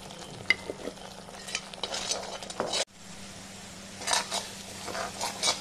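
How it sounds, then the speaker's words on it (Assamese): Spices with red chili powder fry in a pan with a soft sizzle and frequent stirring scrapes, utensil clinks against the metal, a brief drop to near silence midway, then renewed stirring. "এই মছলাখিনি ভাজি পেলাই হৈ গ'ল"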